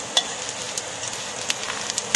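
Soft, steady sizzling of salmon cakes shallow-frying in oil, with faint crackles and pops scattered throughout.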